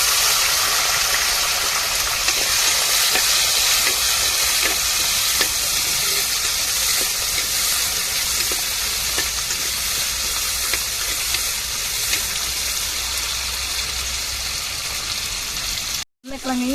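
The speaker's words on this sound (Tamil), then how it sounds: "நம்ம தக்காளி மிளகா உருளைக்கிழங்கு எல்லாத்தையுமே நல்லா வதக்கி விட்டுருவோம்" Oil sizzles and hisses steadily as tomato, chili and potato fry in a pan, a continuous close crackle with faint stirring and no talk over it.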